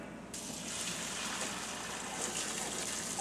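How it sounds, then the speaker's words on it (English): Cooked macaroni for oven mac and cheese is drained through a strainer, with a sudden steady gush of water pouring close by that keeps splashing evenly to the end. "Now I gotta strain the pasta."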